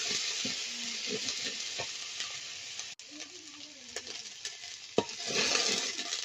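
Garlic-onion paste and green chilli paste sizzle in mustard oil with a little salt, a loud, steady frying hiss close up, punctuated by a few sharp clinks and scrapes of the stirring utensil.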